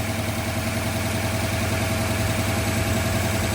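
A car engine idles steadily at close range with a vacuum leak at the idle air mixture screw, a constant, even drone with no talk over it.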